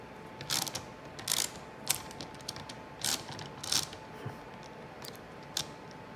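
Small black screws come out of a Porsche 911 cup holder in sharp, quiet ratcheting clicks, arriving in short irregular bursts close up, with no talk.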